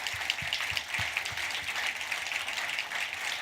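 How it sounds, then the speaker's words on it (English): Children clap at a community breakfast event, a moderate, fairly steady patter of many hands heard from a short distance and continuing evenly throughout. "my kids are clapping because they're proud and because it's done"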